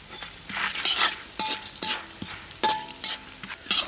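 Puffed rice tossed with crushed garlic chilli powder and fried chana dal in a pan, giving repeated dry scraping, rustling strokes with a bright crackly hiss, close and moderately loud, with no voices.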